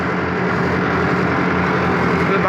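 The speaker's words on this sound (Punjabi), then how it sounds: "ਟਰੈਕਟਰ ਸਲੈਪ ਮਾਰੀ ਜਾਂਦਾ ਹੈਗਾ" Tractor hauling a full trolley during rice harvest, wheels slipping as the engine drones loud and steady with a rough, continuous rumble close by.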